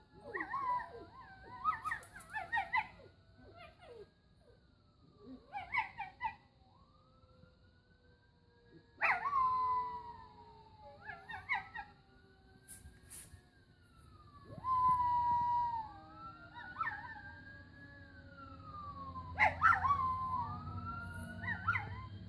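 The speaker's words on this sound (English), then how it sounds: "the dog never barks, never makes noise ever, but he howls at ambulances" A terrier howls repeatedly in long rising and falling wails, answering a distant ambulance siren that rises and falls in the background.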